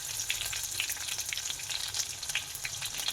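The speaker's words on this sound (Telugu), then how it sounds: "ఇవి వేడైనాక ఆనియన్స్ వేసుకోవాలి పచ్చిమిర్చి" Onions and green chillies fry in hot oil for bagara rice, a steady, dense sizzle with crackling pops running unbroken and close throughout, with no voices.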